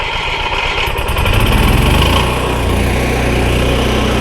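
An RV generator engine cranks and catches, then runs with a loud, steady, buzzy drone close by, with its pitch settling after startup and no talking over it.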